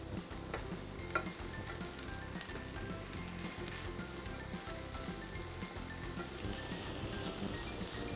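Chopped spinach and fenugreek leaves frying and being stirred in a pan, a steady close sizzle with crackling and occasional scrapes running the whole time, no talk.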